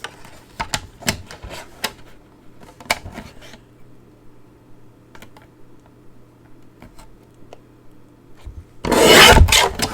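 Scissors or a paper trimmer cut retired card stock into narrow strips, several crisp snips and slides early on, then quieter handling and a louder rasping rub near the end, close by without speech.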